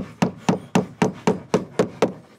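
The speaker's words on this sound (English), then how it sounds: "then that way then I've not got as far to hammer it" A hammer drives a nail into timber on a garden room roof build, with nine evenly spaced, sharp strikes about a quarter second apart. The close, loud blows come alone, each decaying quickly, and no one talks.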